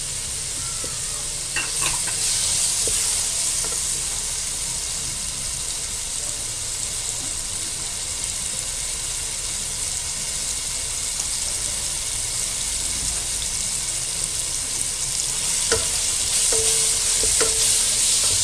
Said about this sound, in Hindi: हल्का सा कैरेट को फ्राई करना था।